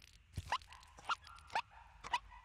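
In the game Seasons After Fall, a small dog gives four short, bright barks spaced about half a second apart, fairly close and clear over quiet background.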